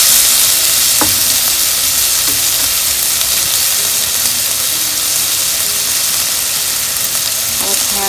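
Potatoes frying and sizzling in a pan during korma preparation, a steady loud hiss with occasional scrapes and clinks as they are stirred, with no voice over it.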